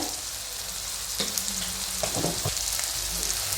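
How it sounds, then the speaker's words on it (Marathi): Tomatoes roasting with salt in a hot pan for hotel-style puri bhaji: a continuous close sizzle broken by a few stirring scrapes and clatters. "टोमॅटो पण असं भाजून घेऊया टाकून त्यात।"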